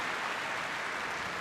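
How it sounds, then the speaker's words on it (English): An audience claps for a hearing dogs demonstration at Crufts 2012, a dense even wash of applause throughout the brief moment, moderately distant with no talk over it. "Round of applause for the dogs"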